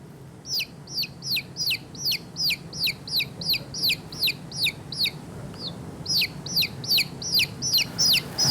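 Chicks, young chickens in a poultry house, peep in a rapid, regular run of high cheeping calls, fairly close and continuous, with a faint low hum beneath.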